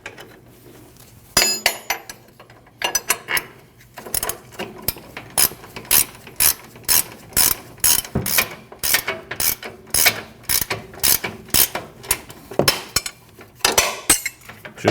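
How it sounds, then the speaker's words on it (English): A ratchet snugging the bolts on a front control arm of a Nissan NV2500 van, heard as repeated bursts of quick metallic clicks with short pauses, close and sharp against a quiet garage background. "You can tighten your bolts, but not too tight because you want to torque those bolts at ride height."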